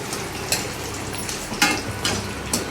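Crushed, skin-on garlic and curry leaves fry in a shallow layer of oil for a crispy poha mixture, giving a steady close sizzle broken by four or five sharper bursts as the pan is stirred. No one speaks.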